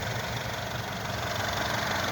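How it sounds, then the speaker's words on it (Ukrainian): A 2010 Peugeot 3008 1.6 turbo petrol engine idles steadily up close, a continuous low rumble with a faint rhythmic knock, no voices. "Отак робить двигун."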